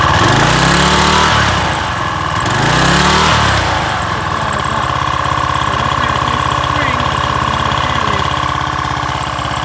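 A Briggs & Stratton 190cc engine on a Craftsman pressure washer runs close by, its pitch swelling and dropping twice as the throttle is moved, then settling into a steady, loud idle drone.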